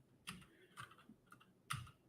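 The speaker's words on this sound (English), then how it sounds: "computer, if my keyboard will work." Typing on a computer keyboard, a handful of separate key clicks spaced out over a couple of seconds, close and fairly quiet with no talk.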